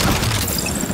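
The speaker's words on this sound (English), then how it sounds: "Explosion." A loud explosion in The Division 2 video game, a heavy booming blast with crackling debris and rumbling tail that fills the moment, sounding close and with no talk over it.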